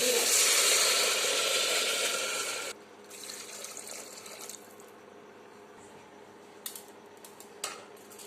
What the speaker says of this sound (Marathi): आता आपण पाणी टाकून चांगलं स्वच्छ धुवून घेऊ।